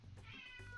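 A single short meow from the cat in the video game Persona 5 Royal, quick and up close over a low game music backdrop.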